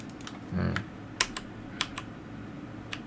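A few distinct computer keyboard presses for a Ctrl+K shortcut click close by, spaced out over a low room hiss, with a soft thump just before them.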